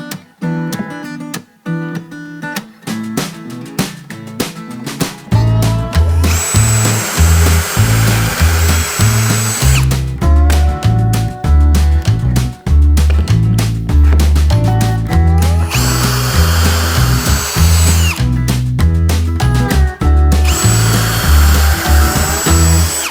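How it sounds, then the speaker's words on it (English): A power drill drilling pocket holes in wood whirs in repeated bursts, short quick pulses at first and then longer sustained runs, loud and close, with brief pauses between. "when I was drilling those pocket holes"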